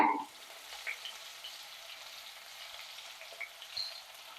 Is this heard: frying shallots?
yes